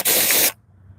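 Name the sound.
spray gun test spray of car paint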